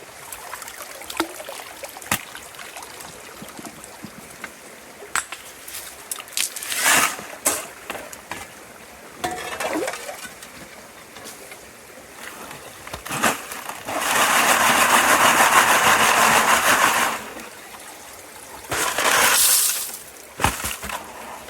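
A bucket of gravel runs through a gold sluice in flowing water: scattered clinks and crunches of stones, then long, loud rushing pours of water and grit washing through, with no talking.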